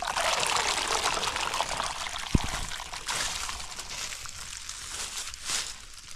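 Water poured into a basin to rinse wood ash off, a close, steady trickling and splashing stream that continues throughout, with one sharp knock partway.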